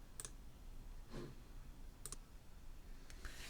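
Quiet computer mouse clicks in Blender 2.69 come in about four separate short, sharp pairs or single clicks, spaced roughly a second apart over soft background hiss.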